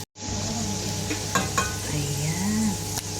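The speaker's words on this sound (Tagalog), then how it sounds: "So, same oil guys I use to fry this carrots." Carrots sizzling in hot frying oil that was earlier used for kingfish, a bright steady crackle close up, with a couple of sharp utensil clinks partway through.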